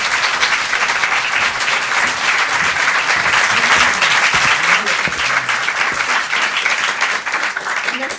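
A theatre audience applauds loudly and continuously, a thick wash of clapping that holds steady for eight seconds with a slight dip near the end and scattered voices in the crowd.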